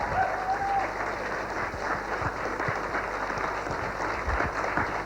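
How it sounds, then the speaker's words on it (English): Applause from a theater audience for a female performer, a continuous round of clapping with scattered sharper claps and a faint hum beneath. "Will you all keep a big round of applause for Marnie?"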